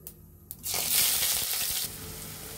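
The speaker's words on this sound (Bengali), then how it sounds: "এখন আমরা পেঁয়াজ কুচিগুলো দিয়ে দিব।" Chopped onions hit hot oil with cumin seeds in a home kitchen pan, bursting into a loud, steady sizzle after a quieter start, then easing slightly toward the end.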